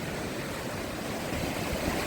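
Sea waves wash steadily against the Odesa shore at Arkadia on a late-October day, a continuous broadband rush of surf with low rumbling swells, mixed with wind noise and no talking.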